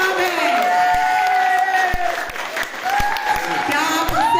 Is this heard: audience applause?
yes